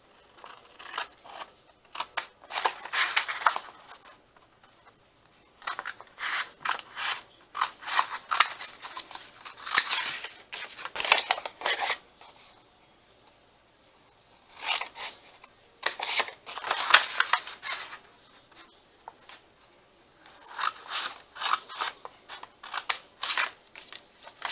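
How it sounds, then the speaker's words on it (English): Scissors snip through craft material to trim bulk for a small pocket, giving rapid runs of crisp, close cutting clicks in several bursts with short pauses between them. "I'm going to cut this and this off just to eliminate"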